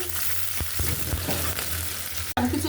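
Chopped garlic and onion frying in oil in a pan for red amaranth greens, a steady close sizzle with a few soft clinks of a utensil, cut off abruptly near the end.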